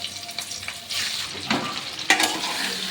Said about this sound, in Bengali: এই জলপাইগুলো আমি গরম তেলের মধ্যে দিচ্ছি